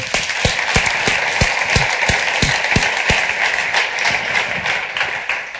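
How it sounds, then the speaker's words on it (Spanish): An audience applauds at a talk for an Ada Lovelace exhibition, a loud, continuous wash of many hands clapping with several sharper claps standing out near the front, sustained evenly throughout without speech. "Un aplauso, por favor."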